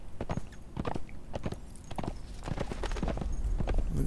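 Hooves of a horse in the video game Conan Exiles thud in a quick, regular galloping rhythm through snow, close and fairly loud with no talking over them.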